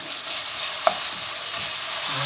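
Goat kaldereta ingredients sautéing in a pan, a constant low sizzle with one brief clink of a spoon against the pan.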